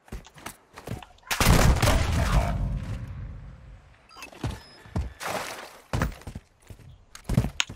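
Gunfire in the shooter game Tempus Razorback, with loud bursts and a sustained heavy volley near the start, then scattered sharp single shots spaced out over several seconds.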